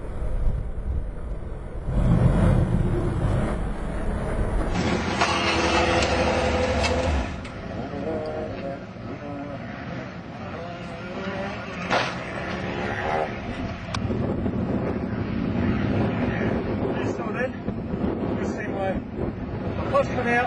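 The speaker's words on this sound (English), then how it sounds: "What I'm going to do now is I'm going to give you a demonstration of my clutch and throttle manipulation" A motorcycle engine is blipped on the throttle as the clutch is slipped to lift the bike into a 12 o'clock wheelie. Rising and falling revs sound close, mixed with strong wind buffeting on the microphone throughout.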